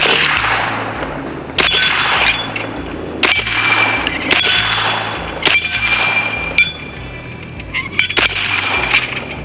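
Pellets from a B&W Bin Tac S45 semi-auto PCP air rifle striking a swinging steel target, giving six loud, ringing metallic clangs spaced about a second and a half apart, each followed by a brief decaying ring.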